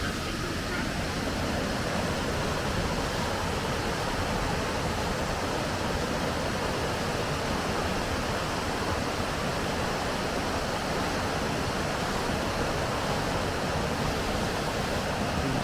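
A Queensland waterfall roars as a dense, steady rush of falling water, loud and unbroken throughout with no pauses.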